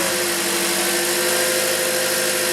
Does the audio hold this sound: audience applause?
no